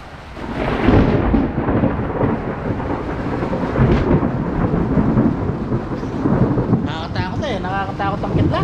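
Heavy thunderstorm over a Philippine farm: loud rolling thunder rumbles continuously under steady pouring rain throughout, with brief faint sounds near the end.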